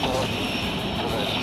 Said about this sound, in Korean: 초대형 헬기가 산불 진화에 투입되고